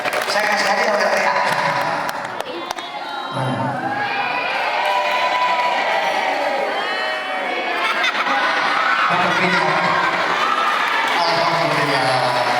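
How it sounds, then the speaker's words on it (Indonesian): Sustained applause and cheering from a crowd at a community religious gathering with a preacher, a dense, steady clatter of clapping that runs throughout at strong level, with scattered shouts mixed in. "tepuk tangan buat Pak RT"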